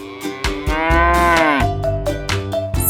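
A single long, loud cow moo rises and falls, set against a rhythmic musical backing track.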